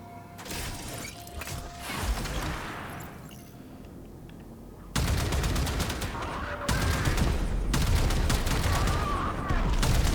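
Rapid bursts of ship-mounted gunfire in the Warframe Railjack space combat game, loud and dense with crashing impacts, stepping up sharply in intensity partway through and continuing steadily to the end.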